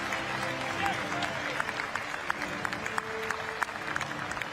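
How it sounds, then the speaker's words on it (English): Applause from spectators at a national track cycling championship medal ceremony, a moderate, distant patter of clapping with sharper individual claps, under a commentator's voice. "while the applause dies down"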